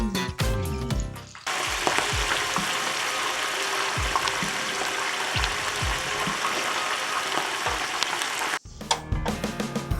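Onions and chicken frying in a pan, a dense steady sizzle with scattered crackles and pops, broken by clattering utensil sounds at the start and end.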